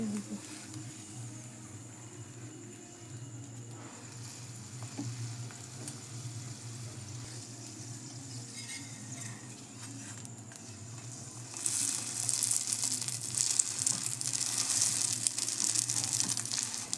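Egg paratha fries in white oil over medium heat with a steady low sizzle and bubbling, growing into a brighter, louder crackle near the end, with faint kitchen noise and no speech.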